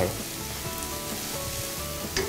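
A pan of beef bolognese sauce with bay leaves bubbles and sizzles steadily, quiet and close, with a faint clink at the end.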